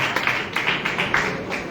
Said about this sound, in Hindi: और साथियों इनके लिए जोरदार तालियां होनी चाहिए